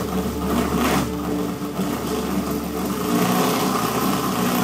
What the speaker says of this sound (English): I couldn't get the engine to run smoothly enough to produce the 4 horsepower that it's supposed to produce